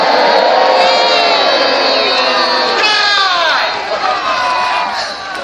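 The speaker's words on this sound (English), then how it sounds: "The Scots cheer in admiration of the king." A crowd of Scots at the Battle of Bannockburn cheers in admiration of King Robert the Bruce. Loud, massed shouting and whooping fill the scene, swelling with rising yells midway and then thinning out slightly toward the end.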